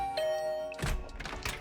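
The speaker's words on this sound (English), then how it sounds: "I'll ring the bell just in case." A two-tone doorbell chime rings once inside the video game The Hundred Line: Last Defense Academy, a clear sustained tone followed by a second, brighter note mixed with soft clatter.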